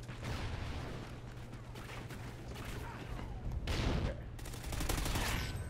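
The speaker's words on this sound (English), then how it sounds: "I hear a sniper over here." Rapid gunfire bursts and explosions rattle through a Call of Duty: Ghosts Cranked multiplayer match, forming a dense, continuous barrage with heavier blasts near the end.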